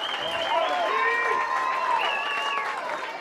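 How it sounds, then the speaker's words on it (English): High school football fans in the Perry Maroons' stands cheer a goal line stand, a sustained roar of many voices with whoops and shouts rising above the crowd noise. "Hear the fans cheering on that defense"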